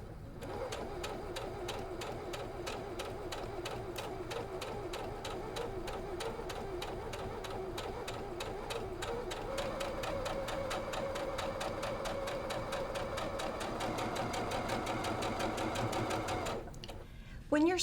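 Close, steady sewing-machine stitching runs a quilt block seam with an even mechanical rhythm almost the whole way through, then stops abruptly near the end.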